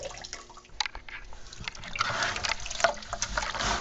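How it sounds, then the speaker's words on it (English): Water is poured into a fermenter to sterilize it while making maple syrup wine, starting as a soft trickle and building into a fuller, louder splashing stream close by. "we're going to pour all the water in the fermenter so we can sterilize it"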